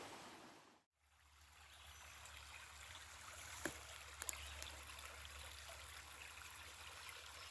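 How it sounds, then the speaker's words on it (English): A small tributary of a creek at a campsite trickles steadily, a soft continuous wash of running water that cuts out briefly near the start, with a few faint clicks. "This is just a little tributary to the creek that we're camping and hanging out on."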